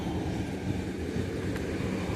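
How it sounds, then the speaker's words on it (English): A train heading toward Nice and Ventimiglia near the Italian border rumbles steadily at a distance on the Antibes coast, a continuous low roar with wind noise and no talk. "There's the train going back to Nice and to Ventimiglia on the Italian border"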